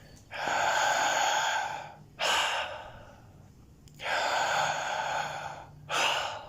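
Deep, slow breaths from a breath work exercise, each long inhale or exhale rushing close to the microphone and then pausing briefly, repeating in a steady rhythm.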